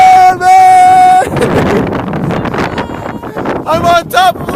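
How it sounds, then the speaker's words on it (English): Loud, strong wind blusters over a rooftop and rumbles against the microphone, while people shout and call out over the gusts. "The wind is so strong."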